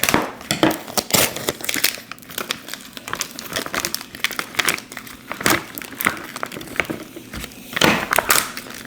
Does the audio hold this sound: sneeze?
no